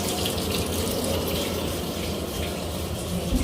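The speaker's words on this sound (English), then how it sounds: "So now I'm going to fill the tub up with water again." Water runs steadily from a tap into a bathtub with cleaned jets, a continuous close gush of filling water with no talk.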